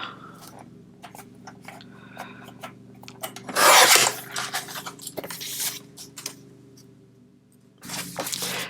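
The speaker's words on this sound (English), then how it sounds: "So I definitely want to trim this down a little bit." Scissors or a paper trimmer cut through a recycled Christmas card front, giving a bright rasping burst followed by scattered small taps and scrapes, with a second rasping cut near the end over a low background hum.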